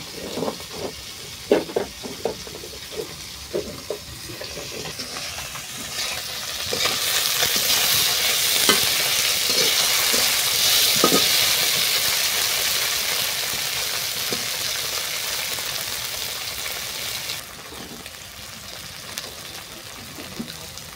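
Stinging catfish and potatoes cooking with cumin, chili and salt in a pan: a loud, steady sizzle swells and holds for about ten seconds, with occasional clinks and stirring scrapes around it.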